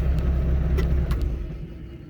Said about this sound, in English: I love the rattles in this truck.